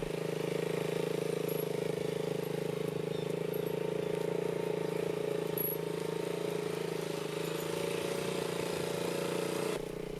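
A motorcycle idles and creeps through a tight circle, upright with the handlebars turned to full lock; a steady low engine drone continues throughout, moderately close, with no voices.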